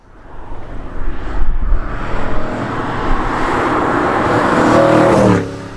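A BMW E92 M3 on Bilstein B6 dampers drives along, its engine note rising under acceleration over steady road and tyre noise, fairly loud from inside the cabin, with no talking.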